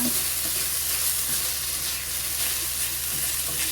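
A pork and eggplant mixture fries in a pan, a dense, loud, continuous sizzle with small crackles and occasional stirring, no voices.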